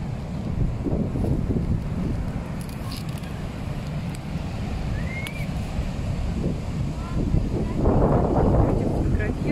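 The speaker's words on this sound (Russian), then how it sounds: "Смотри, какие волны." Sea waves surge and crash onto a beach in Sochi in a continuous loud roar, mixed with strong wind buffeting the microphone, and swell louder toward the end.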